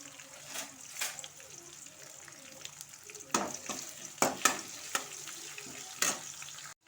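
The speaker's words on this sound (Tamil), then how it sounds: "ஒரு பெரிய வெங்காயம் கட் பண்ணியிருக்கேன், அதையும் சேர்த்துக்கலாம். கொஞ்சம் கருவேப்பிலை, இது நல்லா வதக்கிக்கலாம்" Sliced big onion and curry leaves sautéing in a pan for coriander rice, a steady hiss of frying with scraping stirs and louder clatters toward the end, close and alone.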